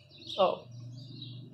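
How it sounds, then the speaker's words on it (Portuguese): Small birds chirp outdoors on a sunny day after rain, with a brief louder burst of song over a steady low background hum and a voice. "os passarinhos cantando, dá pra vocês escutarem"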